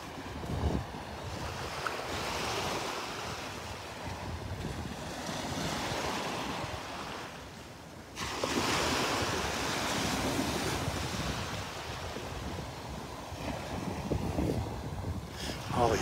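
Surf at the Delnor-Wiggins beach on a morning walk makes a steady broadband wash with wind buffeting the microphone. A brief lull near the middle gives way to another rolling wave, and nobody speaks.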